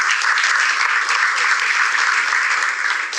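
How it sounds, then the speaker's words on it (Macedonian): Steady, loud applause from a studio audience at a game show, sustained clapping filling the whole stretch with no talk over it. "Еден аплауз за Тамара, бе моја."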